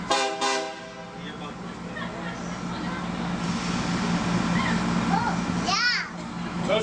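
A heritage excursion train's horn blows twice in quick succession, loud and close, as the train prepares to pull out, followed by children chattering and a low rumble of the train.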